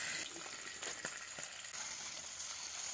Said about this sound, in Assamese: এতিয়া মই তেলখিনি গৰম হ'বলৈ দি তাতে মাছখিনি ফ্ৰাই কৰি লৈছোঁ